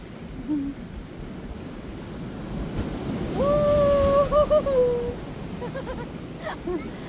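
Surf washes steadily onto O'Sullivan Beach, South Australia, at sunset, with wind buffeting the microphone. A clear tonal hoot rises briefly in the middle over the rolling wash of the waves.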